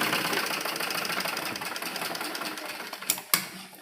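A sewing machine runs steadily, stitching pleats into an embroidered blouse, its dense rapid whir continuing for several seconds before slowing into a few separate clicks and thumps near the end.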